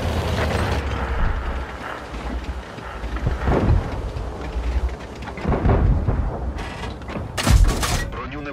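Tank cannon fire in a video game booms repeatedly with heavy, rumbling blasts and mechanical clatter, several loud shots spaced over the stretch amid ongoing battle noise.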